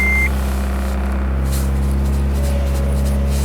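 A carbureted 1985 Honda Accord DX idles steadily after a cold start in freezing weather, a low even engine hum up close, with a short beep at the very start.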